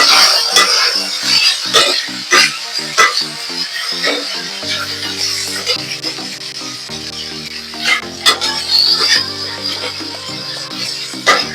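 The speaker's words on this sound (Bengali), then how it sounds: "নুন হলুদ দিয়ে নাড়াচাড়া করে নিয়ে" Chopped onion and potato sizzle in hot oil in a pan, seasoned with salt and turmeric, while a spatula scrapes and stirs in irregular strokes. Music plays steadily underneath.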